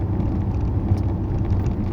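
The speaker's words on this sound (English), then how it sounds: "I just love the sound of my car" A car's engine and road noise carry through the cabin while driving, a steady loud low hum and rumble that runs unbroken, with no talking.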